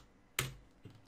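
Two keystrokes on a computer keyboard: a sharp, close tap followed by a softer one about half a second later, with no talking.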